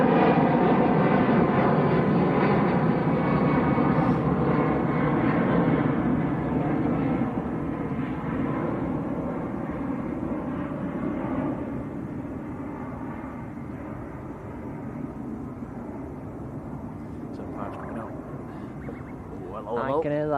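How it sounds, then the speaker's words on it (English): An Ice Air Boeing 757 with Rolls-Royce RB211 engines taxis out at Manchester Airport, a steady distant jet whine and rumble that slowly fades, with people talking over it. "Yes, it's RB211s. 757 of Ice Air just taxiing out."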